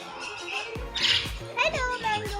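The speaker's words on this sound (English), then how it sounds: "here I found these sun conure parrots" Sun conure parrots at a bird park in Essel World, Mumbai, giving a few sharp squawks amid people talking nearby.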